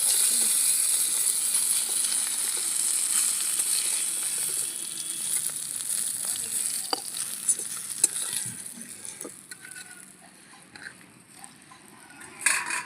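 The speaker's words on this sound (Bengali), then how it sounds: "মাছগুলো ভাজা হয়ে গেছে" Small fish frying in hot oil in a kitchen pan, a continuous bright sizzle with occasional stirring clicks, fading toward the end as the pieces are lifted out.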